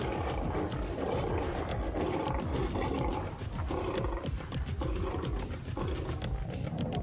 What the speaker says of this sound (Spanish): El rugido de un león puede alcanzar los 114 decibelios.